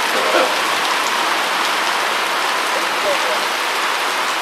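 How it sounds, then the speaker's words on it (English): Steady heavy rain on a street in Detroit, a dense even hiss of drops pouring down without letup, close and loud throughout. "It's out here raining hard"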